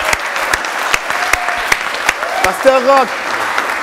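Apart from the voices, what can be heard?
church congregation applauding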